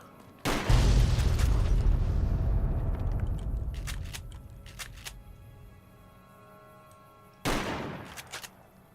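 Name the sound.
truck explosion after shooting, Fallout: New Vegas video game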